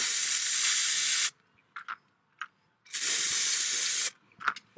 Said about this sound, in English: just give it a bit of a spray